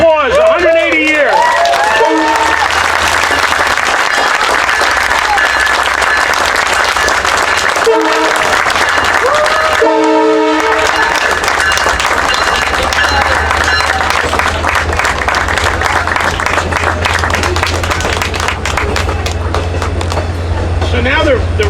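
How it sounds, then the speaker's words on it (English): A crowd at the 180th anniversary of the first train to Greenport applauds at length, loud sustained clapping with cheering voices, while a train horn sounds in bursts near the start and middle. "Let's give them a round of applause."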